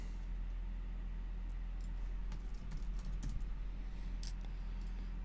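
Steady clicking of a computer keyboard as a command is typed for a game, a quick run of close keystrokes over a constant low hum.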